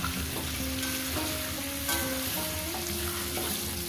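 Potato and pumpkin pieces frying in a pan, giving a loud, steady, close sizzle with crackling and the occasional stir throughout.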